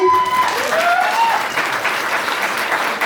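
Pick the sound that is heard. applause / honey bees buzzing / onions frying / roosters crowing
applause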